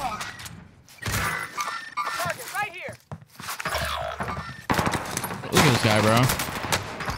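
Call of Duty Warzone gunfire on Rebirth Island: thumping automatic bursts and scattered shots, mixed in with people talking and a warbling radio-style voice line.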